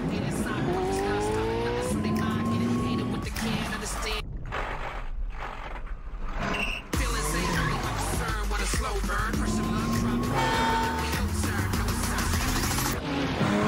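Porsche sports cars race at speed in a heist chase, engines revving and roaring loudly with tires squealing through turns, blended with music and brief voices throughout.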